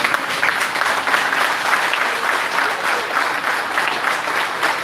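A large crowd at an NUP party gathering claps loudly and steadily for standing registrars, a thick, even wall of applause sustained from start to finish.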